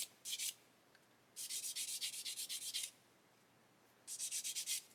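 Sponge sanding along a mould seam on a hard ABS plastic part of a 1/32 Lancaster B.III bomber model, heard in three bursts of quick rhythmic scrubbing strokes, close and crisp, separated by short quiet pauses.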